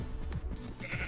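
A sheep bleats in the Wizem (Wizard Empire) video game, a single short nasal bleat over a steady background drone, clear and close.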